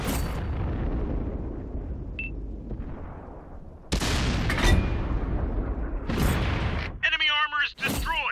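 Sexton I tank cannon firing in World of Tanks on Xbox One: loud broadband boom at about four seconds and another near six, amid continuous battlefield rumble, with radio-style voices speaking near the end.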